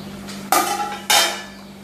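Two sharp metallic clanks ring out as the lid comes off a pot of dry fish curry with drumstick, each a bright clatter with a short ringing decay, over a steady low hum.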